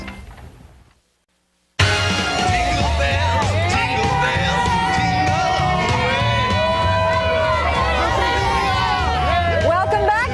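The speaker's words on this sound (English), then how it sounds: "our thanks to the great folks who have come out to be part of our crowd here on Rockefeller Plaza" An outdoor crowd at Rockefeller Plaza keeps up a steady cheering hubbub, with a presenter speaking over it, after a brief gap of silence at the start.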